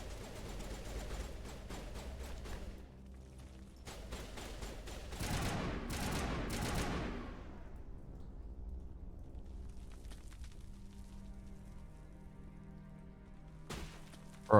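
Gunfire in Mass Effect Legendary Edition, bursts of rapid shots and crackling impacts in clusters, fairly loud, with quieter stretches between volleys and no talking.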